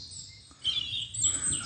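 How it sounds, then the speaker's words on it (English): Willow warblers sing on a nature walk near a pool, with soft high chirping phrases at a moderate distance over faint outdoor background noise. "there's some willow warblers"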